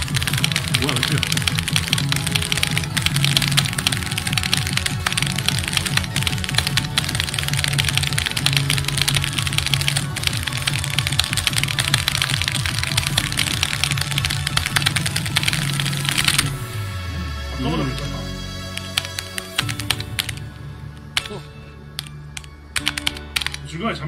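Rapid, dense keyboard key clicks rattle continuously during fast osu!mania rhythm game play, loud and close, thinning into sparser taps toward the end while a person talks over them.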